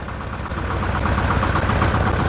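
Steady, loud running of a Scout TY-404C tractor engine at about 1300 rpm in frosty weather, driving a shredder through the PTO, with a close, even rhythmic throb and no talking.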